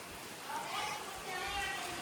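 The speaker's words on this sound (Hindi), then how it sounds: "भाई बारिश आ गई है इतने दिनों में फाइनली" Rain falls on a hot day, a soft continuous hiss of drops with slight swells in intensity, moderately close and unbroken over a brief moment.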